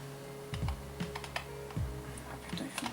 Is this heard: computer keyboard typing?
yes